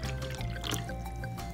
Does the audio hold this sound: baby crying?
no